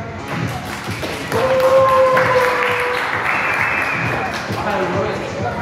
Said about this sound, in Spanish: un aplauso aquí para el Conde Drácula